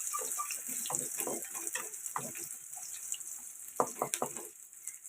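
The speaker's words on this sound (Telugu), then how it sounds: "కట్ చేసి పెట్టుకున్న క్యారెట్, అలాగే గ్రీన్ పీస్, ఇవి కూడా ఫ్రై చేసుకుందాం." Chopped carrots and green peas frying in a pan for an aloo puri curry, a steady close sizzle with occasional stirring scrapes and clinks.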